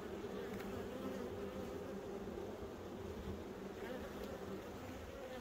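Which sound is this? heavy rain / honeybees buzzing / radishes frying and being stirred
honeybees buzzing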